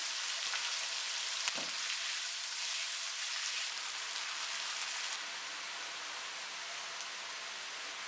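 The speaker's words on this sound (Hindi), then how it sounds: "प्याज को लाइट ब्राउन होने तक फ्राई करेंगे" Sliced onions fry in a pan with a steady, close hiss and crackle like light rain, continuous and fairly quiet, with no voices.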